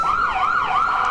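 A fire engine of the Quesnel Volunteer Fire Department sounds its siren during the 2016 Billy Barker Days parade, a loud, close, smoothly rising and falling wail that repeats with no other sounds over it.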